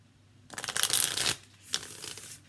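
A deck of wellness oracle cards being shuffled close up, one riffling rush followed by a shorter second shuffle, otherwise quiet.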